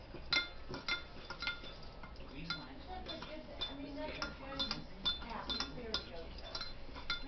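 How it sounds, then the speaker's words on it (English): A utensil stirs homemade French dressing with black pepper in a bowl, giving faint, irregular clinks and taps against the dish with soft background noise and occasional low voice murmurs. "I'm going to stir this."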